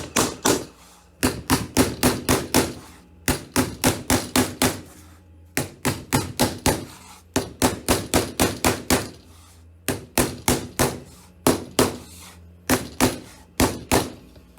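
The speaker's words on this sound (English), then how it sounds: "Line all those notches up and then just hammer it home." A hammer knocks notched wooden cabinet sections together through a scrap of wood laid on top, working from one end to the other in steady runs of close, solid thuds with brief gaps between bursts.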